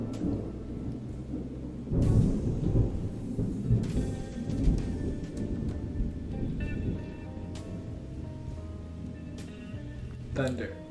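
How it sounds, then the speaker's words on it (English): Thunder rolls and rumbles in deep, sustained waves beneath a person talking indoors, swelling loudest around a couple of heavier cracks before fading back into a low growl. "Thunder."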